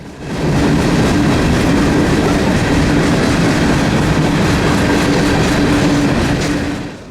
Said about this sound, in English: found Q455 heading back north with a completely different set of power